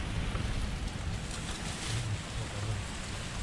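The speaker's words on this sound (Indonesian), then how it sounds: "Hujan." Steady rain falls over a swamp during a fishing outing, a dense continuous hiss with a low rumble and no pauses, close and fairly loud, with no one talking.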